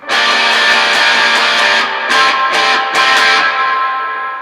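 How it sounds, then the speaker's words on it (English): Electric guitar run through a Holy Grail reverb pedal on the Hall setting, loud distorted notes with bright attacks ringing out into a washy tail that fades at the end. "I'm using a Holy Grail for a reverb."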